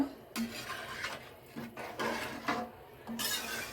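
Rice for a mint pulao is mixed in a pot with a spoon, giving several rasping, scraping strokes and light metallic clinks in short bursts, close and fairly quiet, with a faint voice in the background.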